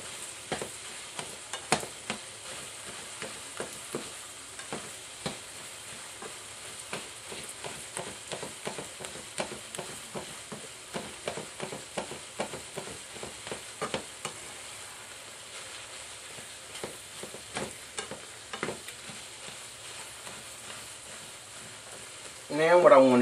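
Ground meat for spaghetti sauce frying in a pan gives a soft continuous sizzle, broken by repeated scraping stir strokes at an uneven rhythm, close but fairly quiet, with a louder clatter at the very end.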